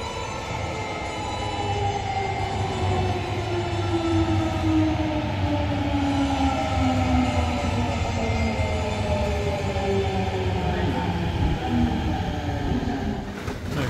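A train runs steadily through a Japanese railway station with a long, continuous rumble and rising-falling whine of wheels and motors, loud and close throughout, with no voices.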